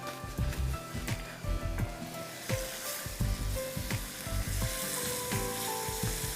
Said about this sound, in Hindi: नूडल्स मिक्स कर दीजिए अंदर।